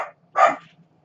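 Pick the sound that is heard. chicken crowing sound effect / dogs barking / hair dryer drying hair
dogs barking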